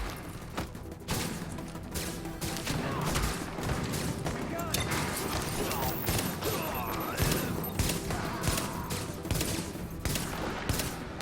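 Heavy gunfire in a firefight in The Division, dense continuous shots and rattling bursts filling the scene loud and near, with a player talking over the combat.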